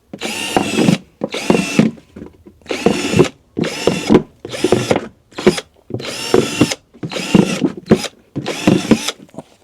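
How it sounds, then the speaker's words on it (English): Power drill with a step drill bit whirring in eight short bursts, each a second or so long with brief pauses between, loud and close, cutting holes repeatedly through a plant pot. "just use the trusty drill with the step drill on it."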